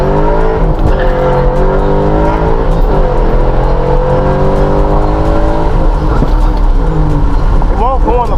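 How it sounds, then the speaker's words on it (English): A 2014 Ford Mustang with an MT82 manual transmission accelerates hard on a back road after a U-turn, its engine note climbing steadily through the gears, loud and close, with a voice talking over it. "we're about to bust a U-turn here and just floor it right back"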